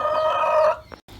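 Brahma chickens on a poultry farm give a close, loud rooster crow with clucking, followed by a brief pause and a quieter tail of farmyard sound.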